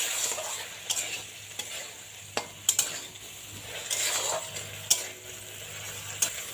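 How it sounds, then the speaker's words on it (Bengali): Fried pointed gourd (potol) being stirred into a spice paste in a pan, with a soft steady sizzle under repeated scraping and clinking strokes of a spoon against the pan, close and fairly quiet, no talking. "ভাজা পটলটা দিয়ে ভালোভাবে কিন্তু মশলার সাথে পটলটা মিশিয়ে নিন এইভাবে"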